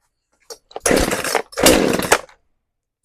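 A Poulan Pro PR5020 chainsaw, which bogs down and won't idle, fires on choke in two loud, close bursts of ragged engine noise, each about a second long, separated by a brief drop and ending abruptly.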